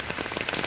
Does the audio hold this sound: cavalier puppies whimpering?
no